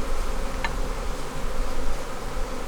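A continuous, steady drone of agitated honeybees buzzing around an opened hive in a bee yard, filling the whole stretch at moderate level with no voices.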